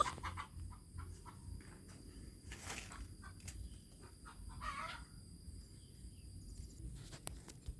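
Free-range village chickens, some brooding eggs, cluck and a rooster crows faintly in the distance over a quiet outdoor background with insects chirping.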